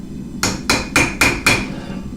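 Five evenly spaced, ringing hammer blows on steel while rough-shaping a ram's head knife, each strike sharp and close with a short metallic ring and no talking.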